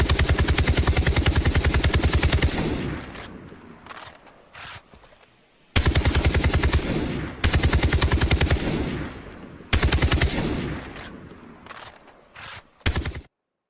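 Rapid bursts of automatic gunfire in the PUBG battle video game, loud and dense, coming in several long volleys separated by brief gaps with scattered single shots and a vehicle-like drone beneath.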